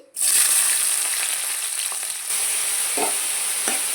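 Onions hit hot oil for a cashew and drumstick curry, bursting into a loud, close sizzle that settles into steady crackling frying, with a few soft stirring scrapes.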